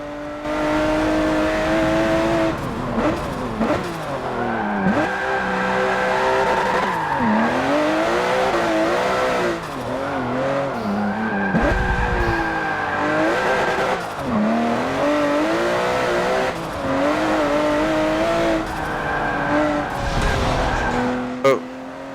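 Porsche 911 race car in Forza Motorsport 7, engine revving up and down through gear changes with repeated tyre squeal and skidding during drifting, loud and close throughout.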